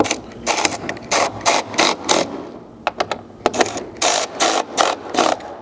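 Ratchet tightening a ditch light mount bolt with a 13 mm socket on a Chevy Colorado or GMC Canyon by the hood hinge: loud, close bursts of rapid clicking in repeated strokes with brief pauses between them.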